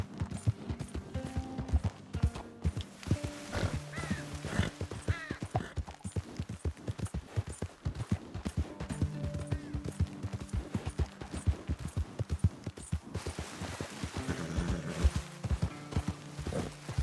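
Horse hooves clip-clop steadily in Red Dead Redemption 2, a rhythmic trotting patter that carries through the whole stretch, with game music tones faintly underneath.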